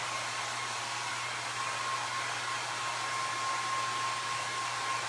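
A hair dryer blows steadily and closely, a constant airy roar with a faint whine, drying a coffee-stained tin.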